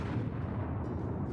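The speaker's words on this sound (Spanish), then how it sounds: "una enorme explosión se apodera del barco, estallando justo en la zona en la que estábamos" A ship explosion rendered as an audio drama sound effect, a dense low rumbling roar that stays loud and sustained throughout, with no voices.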